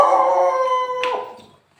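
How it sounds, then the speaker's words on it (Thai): A dog barking at people walking past, heard as one drawn-out, howl-like, tonal bark that holds loud and close before trailing off into quiet. "มาเห่าคนเดินครับหมาเห่าคนเดิน"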